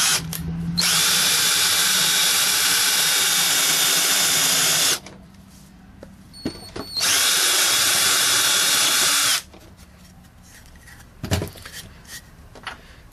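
A power drill fitted with a small taper drill bit bores a screw hole in two loud, steady whining bursts of about four and three seconds, separated and followed by quieter pauses with a few knocks.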